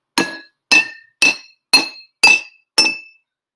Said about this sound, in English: you gently have to hit the glass